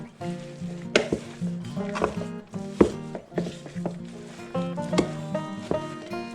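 A spatula working through a cold ground-meat meatloaf mixture in a bowl, giving irregular knocks and scraping thuds roughly every half second, close and moderately loud with nobody speaking.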